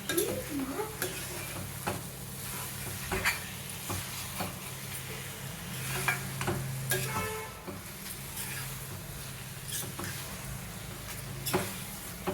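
Carrot halwa with cashews frying in a pan, a continuous sizzle under repeated scraping stir strokes and occasional clinks of the spoon, close and steady, with no talking.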